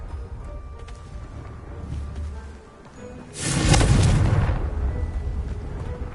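Confringo, a fiery blast spell in a Harry Potter video game, sets off one loud, close explosion that bursts suddenly and then rumbles and fades over a few seconds after a quiet buildup.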